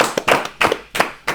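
Four crisp hand claps land at a slow, even pace, close and distinct, in a podcast studio setting.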